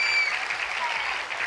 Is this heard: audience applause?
yes